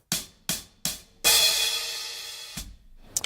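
Three quick, close hi-hat hits played with the body of the stick, then a fuller, meatier open crash that sustains and slowly decays before another couple of lighter strikes.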